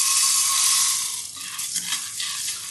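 Green gram dry-roasted and stirred in a pan, a steady dry hiss and rustle of beans shifting against the metal, close and continuous with no voices.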